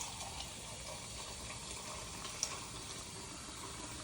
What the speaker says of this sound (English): you pour the water over it to cover the meat